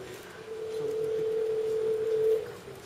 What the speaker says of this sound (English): So I'm going to go ahead and dial the phone.